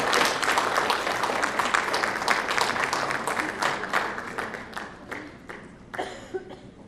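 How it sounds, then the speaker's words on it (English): Sustained audience applause at a business conference gala honouring an academic excellence award winner, dense clapping from a large crowd that thins and fades toward the end. "Please give her a big round of applause"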